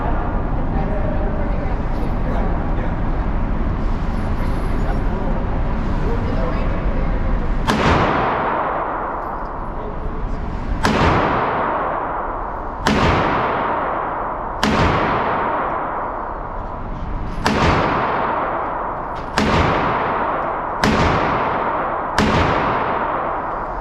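A Staccato pistol fires a magazine at an outdoor range: after a stretch of talk, about nine loud, sharp shots ring out one by one, each followed by a long echoing decay, quickening toward the end.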